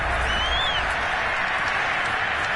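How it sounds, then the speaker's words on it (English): Football stadium crowd at an NFL game, cheering and applauding as a steady, dense roar of noise with no breaks. "The crowd getting into it as we come up on a big third down."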